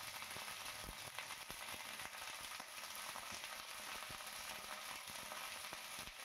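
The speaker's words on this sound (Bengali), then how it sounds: "একটু লাল লাল করে আমি ফুলকপিগুলোকে ভেজে নেব।" Cauliflower florets frying over high heat in hot oil, a faint, even sizzle running unbroken throughout with scattered tiny crackles and no talking.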